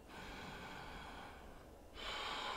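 Slow, deep yogic breaths during a pranayama and vinyasa flow practice: a long, airy inhale, a brief quiet pause, then a louder rushing exhale, close and alone with no talking.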